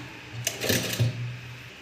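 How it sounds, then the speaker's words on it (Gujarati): Sewing machine stitching a blouse, a short run of motor whir and needle clatter at moderate level, with no talking. "હવે આપણે આને સીધો દોરો મારી દઈશું એટલે આપણો બ્લાઉઝ રેડી થઈ જશે"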